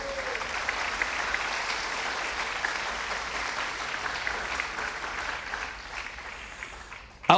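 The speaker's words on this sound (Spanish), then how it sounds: "Dale un aplauso a Cristo Jesús." A church congregation applauds during a sermon, a steady wash of clapping at moderate level that gradually thins and fades toward the end.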